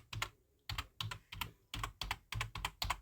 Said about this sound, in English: you can hear the typing in the background